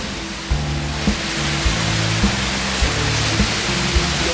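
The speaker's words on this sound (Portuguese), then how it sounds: "chegamos aí a cachoeira" Steady broadband rush of the Bitelo waterfall at Catas Altas, spilling into a small pool, a continuous near roar with faint low rhythmic knocks underneath and no talking.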